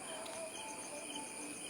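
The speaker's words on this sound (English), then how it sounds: "See, you can still hear the crickets." Crickets chirp outdoors in the early morning near a rural ashram, a faint, steady high-pitched trill under quiet background hiss with no talk.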